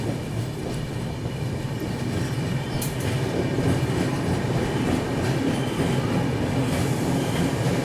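Steady rumble and clatter of the Jammu Tavi Humsafar superfast express running past the Agra Intercity, heard from on board with continuous wheel and carriage noise.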